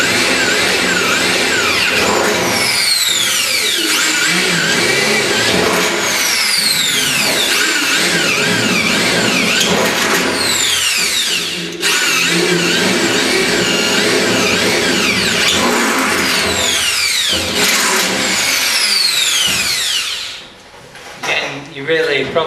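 A power drill bores into metal ahead of pop riveting, with repeated high whining spin-ups and drops in pitch over several bursts, loud and close, with a voice talking at times.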